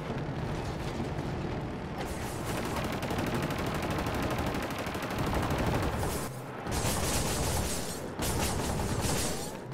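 Dense, loud gunfire in Killzone Shadow Fall multiplayer team deathmatch, sustained rapid bursts with heavy booms layered over one another, briefly dipping before resuming in several intense volleys.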